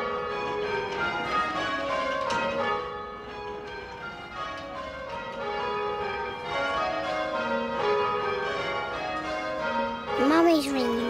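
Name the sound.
church bells rung by pulling bell ropes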